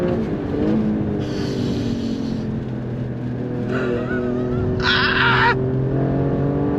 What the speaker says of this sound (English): twin turbo V6 power, this thing is way more intense than a BMW